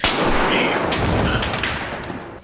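A single heavy gunshot in an action film booms and rolls out into a long, dense echo that slowly fades.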